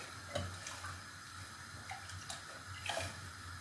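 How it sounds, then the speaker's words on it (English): Meat broth water poured from a container into a cooking pot for spinach stew, a soft, quiet splash and trickle with a few faint clinks, no talking. "I'm going to be using this water. I'm going to be pouring it inside."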